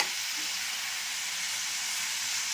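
Garlic sizzles in hot oil and butter in a pan while tomato soup is being made at home. A steady, close, bright hiss carries on without a break, and no one speaks.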